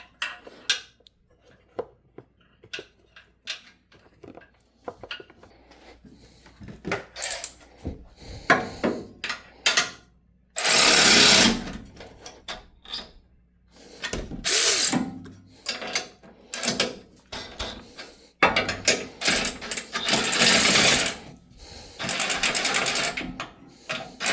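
A Toyota 4Runner Trailhunter bumper install, with ratchets and tools clicking and cranking on the bolts in bursts of rapid mechanical ratcheting, separated by quieter pauses and clanks.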